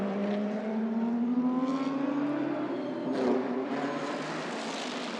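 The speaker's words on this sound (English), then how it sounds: "As out goes Rizzo. Followed by the Golf Porsche" A GT race car accelerates out of the pit lane at a Korean GT Asia round, engine revving and rising in pitch as it pulls away, loud and close, then fading into track noise.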